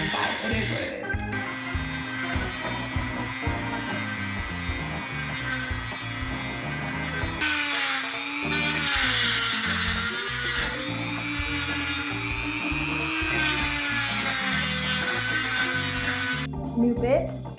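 A Dremel rotary tool fitted with a new bit carves into New Zealand limestone indoors, giving a close, steady high-pitched grinding whine with shifting pitch as the bit bites, over a low rhythmic background throughout.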